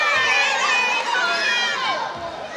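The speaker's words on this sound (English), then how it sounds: "The crowd disagreeing with that call." Crowd at a women's basketball game between Guyana and Surinam roars in protest of a referee's call, a dense wash of shouting and jeering voices filling the whole moment.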